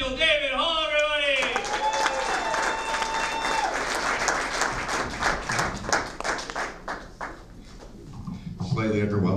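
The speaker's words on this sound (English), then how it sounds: "How about a big round of applause for Nathaniel David Hall, everybody!" A crowd at a comedy trivia night bursts into loud clapping after a brief spoken introduction, with a few whistles mixed in before the applause thins out and a voice returns.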